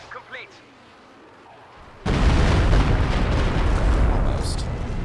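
A Walking Stuka rocket barrage in Company of Heroes 2 erupts suddenly after two quiet seconds, a loud, dense roar of rocket fire and explosions that sustains to the end.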